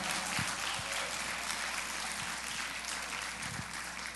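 A standing church congregation in São Paulo claps together, a steady, moderately distant wash of applause with a few low thumps underneath.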